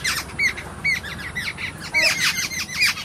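A bird near a cobra squawks in repeated harsh, shrill calls, several sharp bursts in quick succession, close and loud over a low background murmur.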